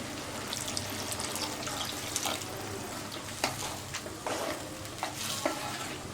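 Water pours into a hot cooking pan of ridge gourd and chana dal kootu with a steady sizzling hiss, broken by a few soft clicks and scrapes nearby.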